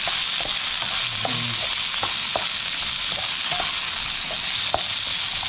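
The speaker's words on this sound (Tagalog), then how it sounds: "Ayan, kaya igisa na rin po natin yan." Mature, somewhat old yardlong beans sauté in a hot pan with a steady, close sizzle, while light stirring clicks and scrapes pop up every so often throughout.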